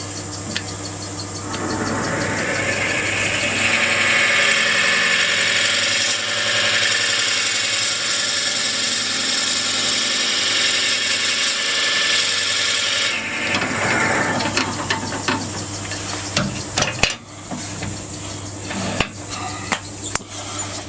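A drill bit held in a Jacob's chuck in a lathe tailstock bores into a workpiece, a loud steady machine whine with a motor hum underneath that runs for most of the stretch, then eases off into quieter shop noise and a sharp knock.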